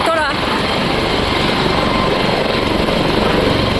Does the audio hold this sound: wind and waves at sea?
no